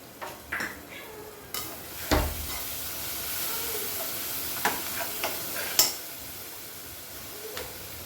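Oil hisses and sizzles steadily in a pan during tempering while a ladle scrapes and clinks against the metal now and then.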